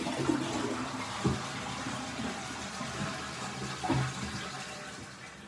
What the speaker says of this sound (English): I guess I have to wash my hands.